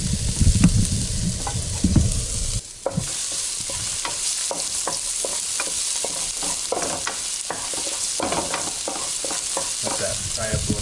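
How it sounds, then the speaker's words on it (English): Ginger and garlic sizzle and fry steadily in a pan for crab fried rice, a loud close continuous hiss with scattered stirring clicks and scrapes, a heavier burst of frying early on, and no talking. "Let that fry up a little bit."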